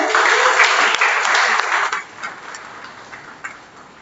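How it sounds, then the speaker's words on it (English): Applause from the audience at a 2021-2022 convocation ceremony, a dense patter of clapping that is loud at first and then thins and fades toward the end. "a round of applause for her also"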